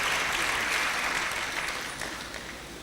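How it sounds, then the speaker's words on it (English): An audience claps after a speaker introduces a new director at an academic gathering, producing steady, dense applause that fades slightly toward the end, with no talk over it. "Please, let's give her a round of applause."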